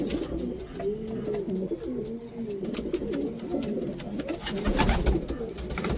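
Racer pigeons in a loft coo steadily in low, rolling calls, close by, with scattered clicks and wing shuffles around them.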